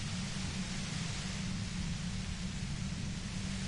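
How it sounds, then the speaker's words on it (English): Steady hissing static fills the air in Disco Elysium, an even wash of white noise with a low rumble beneath, constant and unbroken throughout. "You hear through the white noise. It's especially bad suddenly."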